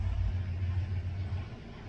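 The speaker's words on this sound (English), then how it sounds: "you can hear the engine idling kind of up and down a little bit" A C3 Corvette engine idles with a low, steady rumble that rises and falls slightly over two seconds, with no talking.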